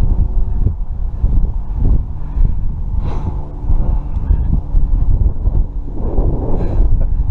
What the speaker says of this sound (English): Now the wind picks up.